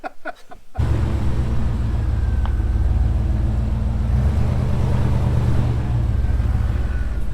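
Stock Chevrolet Suburban engine droning loudly and steadily as it climbs a rough off-road trail, a constant low rumble with wind buffeting the microphone after a brief voice at the start.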